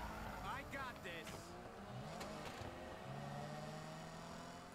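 A race car engine in Need for Speed Payback drones steadily with gear-shift changes in pitch, struggling to get into second gear, sharing the mix with game sounds and voices.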